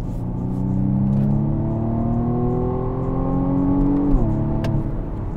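BMW M135i in sport mode accelerating, its engine and exhaust note climbing steadily in pitch as revs build, then dropping sharply at a gear change before pulling again, heard close and without talk.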